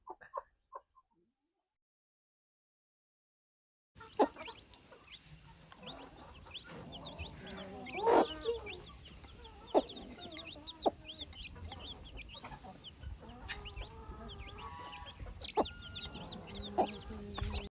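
Native hens on a farm cluck in scattered, intermittent bursts at moderate distance after a few seconds of near silence, with occasional louder squawks.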